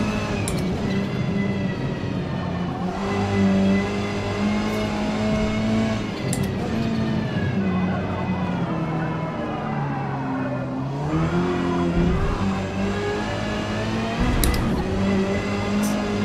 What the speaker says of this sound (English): the little 4-cylinder that could.